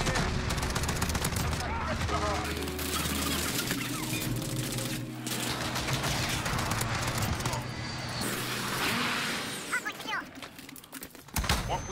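FAL rifle gunfire in a first-person shooter game, dense bursts of rapid shots layered with game effects and ambient noise throughout, with a voice talking over the action.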